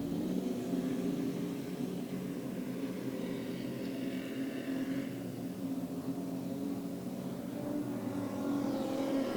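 Street stock race cars circle Tyrepower Manjimup Speedway in a heat, their engines a continuous distant drone rising and falling as the pack laps.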